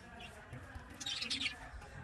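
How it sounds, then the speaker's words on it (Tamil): Small birds chirp and tweet at a resort garden in Yercaud, moderately near, with brief bright calls clustered mid-way over a soft outdoor background. "இங்கே குட்டி சின்ன பறவைகள்லாம் வச்சுருக்காங்க"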